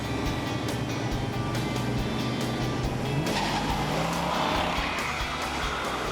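A Plymouth Roadrunner with a 426 Hemi engine roars close by, its tires squealing in a sustained screech as the engine note climbs, loud and continuous over a heavy mechanical rumble.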